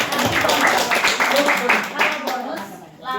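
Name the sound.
audience applause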